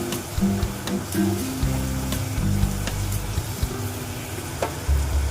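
Masala for a bhetki fish bone chorchori sizzles steadily in oil in a pan, a dense close frying hiss with stirring scrapes and a low rumbling hum underneath.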